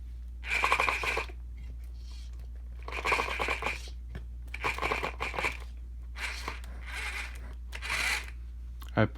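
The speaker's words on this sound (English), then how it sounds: "It's just one of my wheels rubbing against something on my bench." Repeated scraping, rasping bursts about every second and a half as a Redcat Gen 8 RC car wheel rubs against a workbench, each under a second, over a steady low hum, close and moderately loud.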